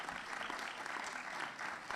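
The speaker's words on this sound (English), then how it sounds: "Let's give them another round of applause," An audience at a retirement reception gives a round of applause after a jazz band performance. The clapping is dense and continuous, with no voices over it.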